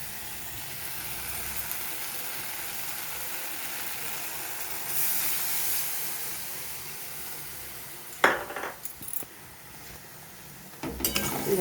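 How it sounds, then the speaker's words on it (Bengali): Water poured into melted tomato simmering in a pan for a fish curry gives a steady hiss and sizzle, swelling briefly as the water goes in, with a few utensil clinks near the end. "এবারে আমি এর মধ্যে পরিমাণ মতন জল দিয়ে দেবো।"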